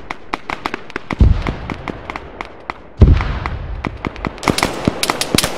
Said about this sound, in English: The enemy is bombarding your position.